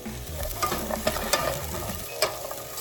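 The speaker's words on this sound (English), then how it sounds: "Just give that like a good stir" Mushrooms sizzle and fry in a pan while a utensil stirs them with repeated scraping strokes and occasional sharper clicks, close and steady, with no voices.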